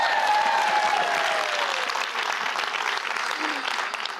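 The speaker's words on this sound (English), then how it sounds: "Give me a round of applause." A crowd at a women's empowerment event gives a round of applause, sustained and fairly even, with a faint tone and murmurs in the background.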